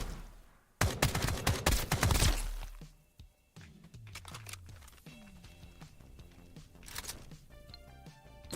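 A gun fires in the video game Duckov: a loud burst of rapid shots up front, then scattered single shots and clicks with quieter game sounds afterwards.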